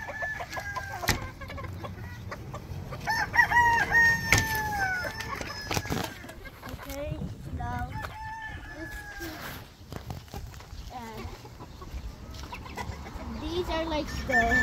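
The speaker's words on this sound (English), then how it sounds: "silky chickens." Silkie chickens cluck in a coop with a mix of pitched calls and squawks, some near and some farther off, and a rooster crows now and then.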